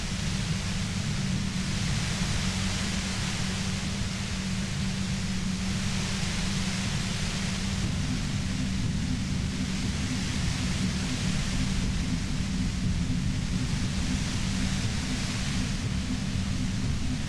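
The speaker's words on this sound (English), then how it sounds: "You hear through the white noise. It's especially bad suddenly." A steady, dense hiss of white noise from the video game Disco Elysium runs unchanged for about seventeen seconds with a heavy low rumble beneath, with no voices.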